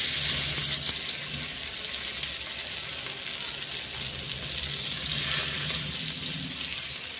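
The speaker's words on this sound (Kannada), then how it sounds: "ಮೀಡಿಯಮ್ ಫ್ಲೇಮಲ್ಲಿ ಫ್ರೈ ಆದರೆ ಬಹಳ ಚೆನ್ನಾಗಿರುತ್ತೆ ಮೀನು." Sardine fish frying in a pan on a medium flame, giving a steady broadband sizzle and hiss that stays fairly constant and close throughout, with no talk.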